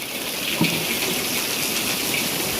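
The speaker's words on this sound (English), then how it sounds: "It is raining" Rain falls steadily outdoors, a dense even hiss with no one speaking.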